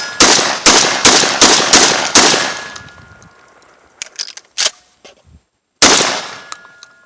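Beretta 1301 tactical shotgun firing Federal shells at 1145 feet per second, a rapid string of six loud, close blasts with ringing decay, then a few sharp mechanical clicks and clacks and one more blast.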